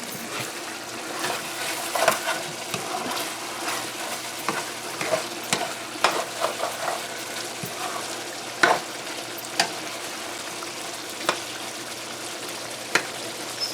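A pot of pork stew bubbles and simmers steadily with a soft sizzling hiss, while a few clinks and scrapes of a utensil stirring ring out now and then.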